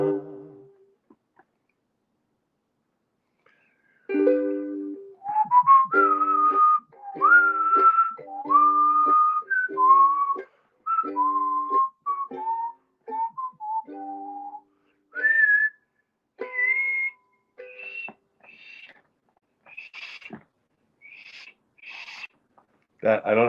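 Someone whistles a wandering melody alone and close, a long run of short phrases that climb toward high notes near the end, with brief pauses between phrases.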